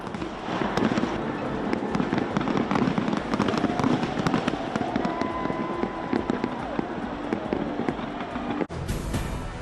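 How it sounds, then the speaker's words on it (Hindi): Dense, continuous crackling and booming of fireworks exploding in rapid succession, loud and sustained, with a brief pause near the end. "बड़े पैमाने पर आतिशबाजी"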